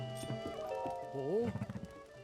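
A horse neighs in Zelda: Tears of the Kingdom, a rising, wavering whinny that ends in a run of short snorting pulses, loud and close, with game music in the background.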